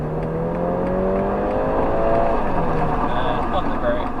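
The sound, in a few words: police car engine accelerating while driving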